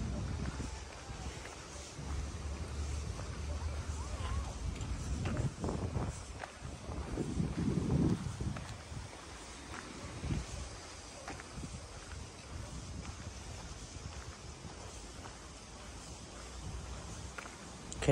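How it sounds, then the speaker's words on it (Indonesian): Strong cold wind gusts across a microphone in a lakeside town park, with low rumbling buffeting that swells in the middle and then settles into a steady outdoor roar, no clear talking over it. "dingin, anginnya kuat"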